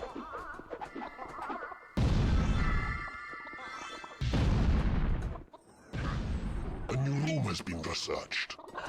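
Loud blasts in Dungeon Keeper Gold, several heavy explosions in a row that burst and decay, with a person speaking over the quieter gaps.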